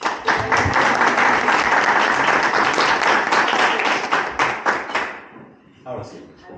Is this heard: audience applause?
yes